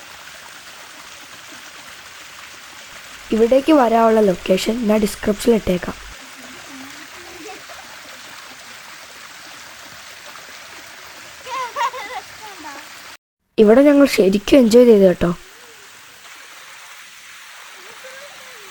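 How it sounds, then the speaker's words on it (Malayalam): Continuous rushing babble of the small Pambanal waterfall stream in Kerala, steady and close throughout, with a person speaking over it in two stretches. "ഒരു ചെറിയ വെള്ളച്ചാട്ടത്തിലാണ് ഞങ്ങൾ എത്തിയത്"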